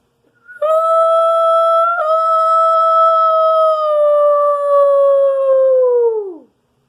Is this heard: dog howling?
yes